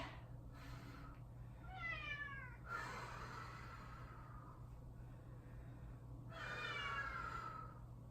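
A cat meows twice, drawn-out and wavering, fairly close, with a steady low hum in the background.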